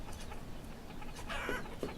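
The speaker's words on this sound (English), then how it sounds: "we're up to 32 chickens on this farm." Chickens on a farm in the city-building video game Banished cluck faintly, with a few short bird calls over a low, steady ambient game background.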